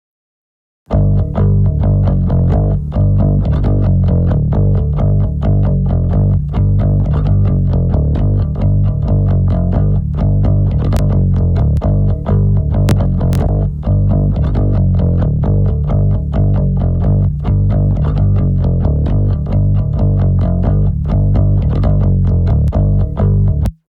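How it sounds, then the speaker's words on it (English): A heavy, distorted bass line plays steadily and loud, with a solid, clean low end underneath the gritty upper tone. "The main body of the bass has this distortion on it."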